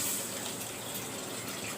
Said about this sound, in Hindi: अब इसमें मैं 3 गिलास पानी ऐड करूंगी